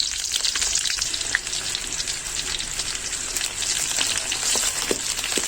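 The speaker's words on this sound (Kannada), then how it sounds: "ಇವಾಗ ಈರುಳ್ಳಿ ಮತ್ತೆ ಹಸಿಮೆಣಸು ಹಾಕೊಳ್ಳೋಣ. ಚೆನ್ನಾಗಿ ಫ್ರೈ ಆಗಲಿ ಎಣ್ಣೆಯಲ್ಲಿ." Onion and green chilli frying in hot oil for a crab masala dry fry: steady, close, bright sizzling with fine crackles and occasional pops, continuous throughout with no talking.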